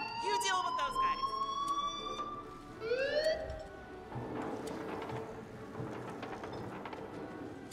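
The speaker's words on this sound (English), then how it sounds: "I'll turn up the alarm." A wailing alarm siren blares in the video game Dead Island 2, its tone sweeping up and down loudly over a steady background of game noise, with a voice speaking briefly beneath it.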